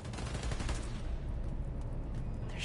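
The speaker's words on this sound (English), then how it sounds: "Just keep shooting and cutting wires." Gunfire in the Spider-Man: Miles Morales game while shooting transformers and cutting wires at a power station: a dense, continuous burst of rapid shots over a steady low rumble, no talk.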